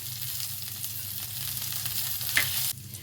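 Chopped green chillies hiss and crackle in a pan with garlic and ginger, a close, steady sizzle that dies down sharply just before the end.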